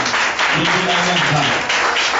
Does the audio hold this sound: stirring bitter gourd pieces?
no